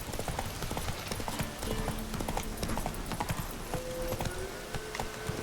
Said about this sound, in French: T'es un cheval.